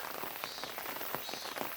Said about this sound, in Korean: 이렇게 비가 오니까